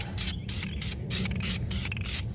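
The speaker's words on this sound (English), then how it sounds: "I'm going to try and keep the can as vertical as possible to get a good spray" Short bursts from a spray paint can coat a car's wheel barrels on a 2004 Saturn VUE redline wheel refinish: about eight hissing pulses in a steady rhythm, close and fairly loud, with no voice.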